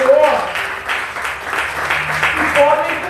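A church congregation applauds the Lord during a Sunday service: a steady wash of clapping mixed with voices and murmured talk throughout.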